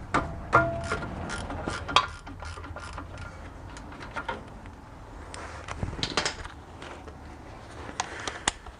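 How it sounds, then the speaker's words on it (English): Ratchet clicking while removing the brake caliper bolts, two 17 mm bolts, on a Toyota 4Runner front suspension refresh, with irregular close mechanical clicks and creaks throughout. "So gotta get the brake caliper off."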